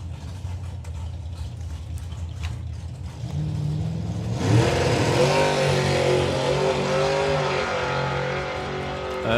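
A drag racing car running without wheelie bars at an FIA/FIM drag racing event launches after a quieter idle, its engine roaring loud and sustained for the rest of the run.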